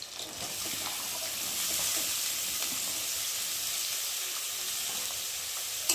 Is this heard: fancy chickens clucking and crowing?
no